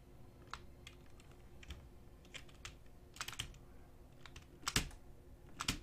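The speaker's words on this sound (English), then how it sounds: "A good old banging of the keyboard seems to do the trick." Irregular bursts of keystrokes as a computer keyboard is banged on, with sharp clustered clacks growing louder toward the end, alone with no talking.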